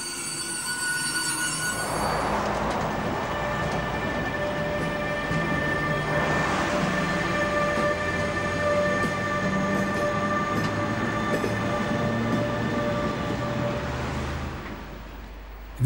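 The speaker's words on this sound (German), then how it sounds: "Jetzt neue E-Loks auf alten Gleisen." A train hauled by a new electric locomotive on the old Rübelandbahn line rolls steadily along the tracks with a continuous rumbling drone and faint high-pitched wheel whine, loud and close throughout.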